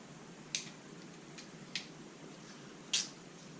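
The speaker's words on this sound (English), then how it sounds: "And zip tie it." A zip tie is cinched around a 3D printer's Y-axis assembly, giving a few quiet, sharp clicks spaced out over several seconds against a faint background hiss.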